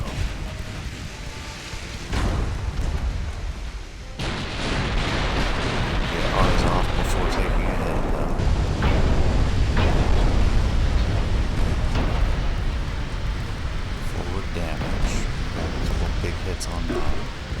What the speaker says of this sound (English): Oh, here comes the next salvo.